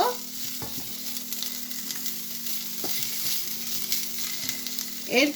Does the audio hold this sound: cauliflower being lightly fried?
yes